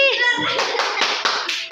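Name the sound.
clapping for the challenge winner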